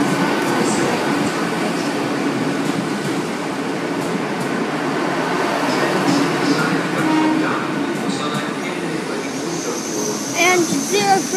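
A Class 800 train rumbles steadily into platform 3 at Cardiff Central station, a broad low roar with faint squeals and clatter near the end, with people talking underneath.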